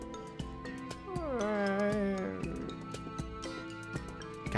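A cat meows in the video game Dyscourse, one drawn-out wavering cry rising and falling over a busy musical backdrop with steady ticking accents, fairly close and clear.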